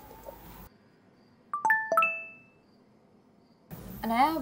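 A phone notification chime rings out as a short cluster of bright, bell-like tones, clear and close in a quiet room, fading after about a second; voices are heard before and after it.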